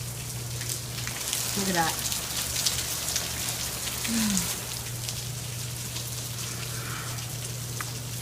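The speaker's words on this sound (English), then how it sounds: "And it's starting to rain." Steady rain patters on a Honda Accord parked at a repair stop, a continuous hiss with scattered drops under a constant low hum, while someone speaks briefly.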